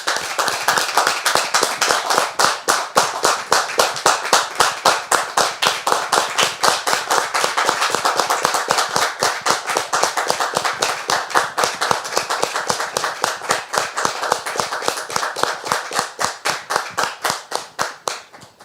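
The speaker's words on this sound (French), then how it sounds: "on la reçoit, très cher public, avec des applaudissements, s'il vous plaît" Studio audience clapping to welcome a female guest on a French-language talk show, a loud, sustained burst of rhythmic, closely miked hand claps that never lets up.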